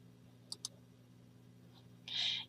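A software dialog's Yes button is clicked with a computer mouse, giving two quick, faint clicks close together, then a short, soft chime-like tone.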